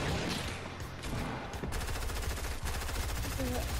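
Rapid automatic gunfire from a turret in a multiplayer video game, a dense sustained burst of shots running loud and steady through the whole stretch, with a brief change partway through.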